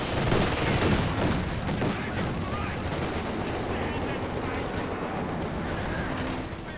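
Dense battlefield gunfire from a Company of Heroes 2 match, with machine gun bursts and scattered shots rolling continuously under a loud, busy din of combat noise, steady throughout.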